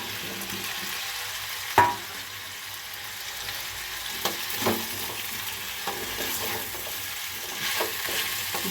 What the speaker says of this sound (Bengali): একটু হালকা করে নেড়ে নেবো সবজিগুলো